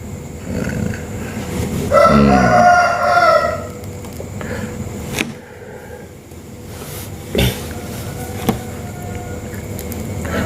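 A rooster crows once in the early morning, a loud drawn-out call standing out over faint background noise, followed by scattered thumps and a quieter ambient stretch.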